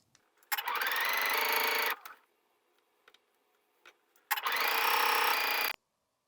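A sewing machine stitches in the ditch around a skort, running in two steady bursts of about a second and a half each, close and fairly loud. Brief faint clicks fill the quiet gap between the runs.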